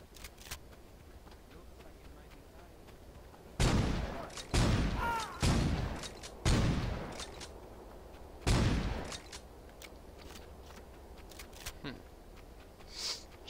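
Several loud gunshot bursts from shooting in the video game Saints Row 2, sharp clustered blasts in the middle stretch with a few fainter shots later over quiet game ambience.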